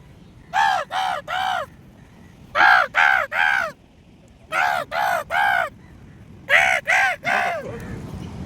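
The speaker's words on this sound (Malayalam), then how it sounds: "എൻ്റെ തലയ്ക്ക് മുകളിൽ മൊത്തം പനത്തുറയിലെ കാക്ക ഉണ്ട്, മൊത്തം കാക്കയുണ്ട്" Crows caw in four bursts of three harsh calls each, loud and close overhead at a crow roosting site at Panathura, Kerala, with short quiet gaps between the groups.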